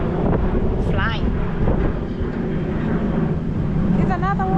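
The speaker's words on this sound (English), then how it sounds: "We live by the airstrip, so it's an aeroplane flying." An aeroplane flying overhead near an airstrip on a Texas farm, a steady loud drone blended with heavy wind buffeting the microphone, with a few brief voices over it.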